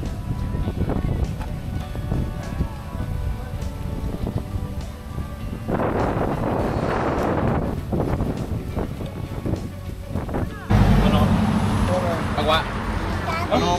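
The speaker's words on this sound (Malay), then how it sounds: "Nampak gaya angin ni macam nak hujan" Wind roars in a low, constant buffet against the microphone while riding a Benelli Leoncino 500 motorcycle. The rumble swells in gusts under occasional voices.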